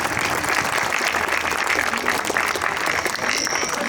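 A live audience claps loudly and steadily for the full stretch, a dense, unbroken wash of many hands with no voices standing out.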